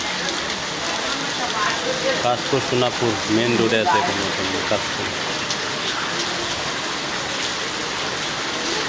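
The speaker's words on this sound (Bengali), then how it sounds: "বৃষ্টি আর বৃষ্টি পড়তে থাকে প্রচণ্ড" Torrential rain lashes down along the Kashpur–Sonapur main road, a constant loud wash of drops, while someone talks over it for several seconds in the middle.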